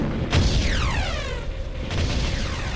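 Bombardment in the strategy game Ground Control: a heavy boom opens, followed by a long descending whistling sweep and a second blast, loud and dense with rumble beneath.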